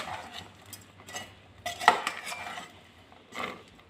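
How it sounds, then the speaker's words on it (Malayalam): A spoon clinks and scrapes against a pot while spice powders and asafoetida are stirred into a mango pickle, in a few irregular close metallic taps and scrapes with no talk. "എല്ലാം കൂടി ഒന്ന് മിക്സ് ചെയ്യണം."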